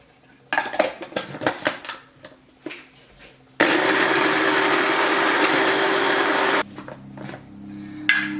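Clinks of a spoon and dishes lead into a loud blender whirring steadily for about three seconds as it mixes a creamy lemon juice sauce, then stops, leaving quieter clatter.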